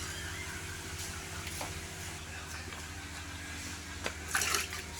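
Water pouring into a container while block printing dye for saree fabric is mixed in a workshop, a faint steady trickle over a low humming background, with a brief louder splash near the end.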